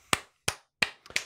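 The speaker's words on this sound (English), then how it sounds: "Clap." Hand clapping, four sharp, distinct claps spaced about a third of a second apart, close and crisp in an otherwise quiet room, the last with a small double hit.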